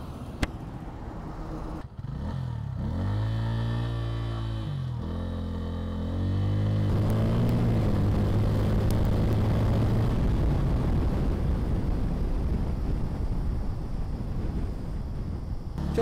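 A 2025 Bajaj Pulsar N160 motorcycle pulls away and accelerates through the gears, its engine note rising and dropping with each shift, loud and close with steady wind rush and no talking.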